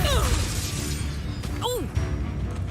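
A spell-casting effect from the Hogwarts Legacy video game, a whooshing magical burst with sweeping tonal swirls and a sharp zap, layered over dense game sound and music.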